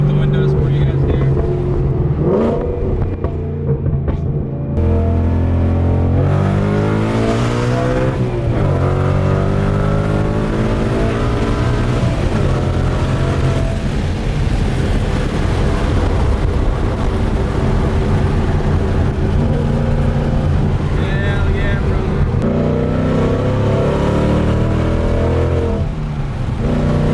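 A car is driven fast on a highway with its windows open, giving a loud continuous roar of engine, wind and road noise that swells as it accelerates, with a voice heard now and then.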